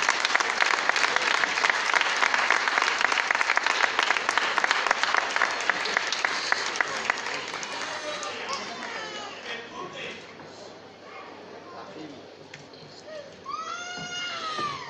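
An audience applauds at a ceremonial plaque presentation for pandemic work, during a religious festival proclamation event in Barruecopardo, Spain; dense, loud sustained clapping fades toward the end, with talk and other voices surfacing underneath.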